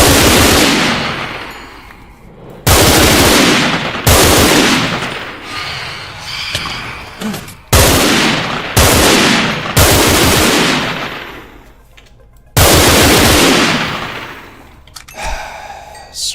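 Gunfire in a Minecraft game, loud broadband bursts repeating in several long volleys with short gaps between them, each burst fading before the next begins, with no talking.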